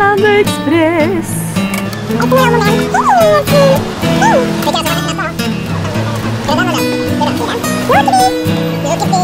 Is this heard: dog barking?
yes